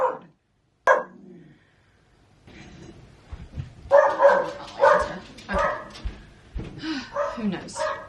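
A pet dog inside a house barks in a few short, sharp bursts close by, with a person talking over and around the barks.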